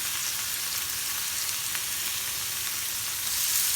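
Burger patties made with cold bacon fat sizzle on a grill in a loud, steady, close hiss that swells slightly at the end as they are flipped.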